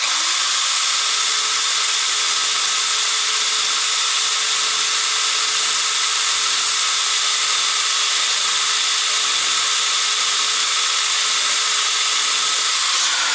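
A power sharpener grinds a band saw blade with a steady, continuous high-pitched whine and a faint tonal hum, unbroken for the whole stretch with no talking.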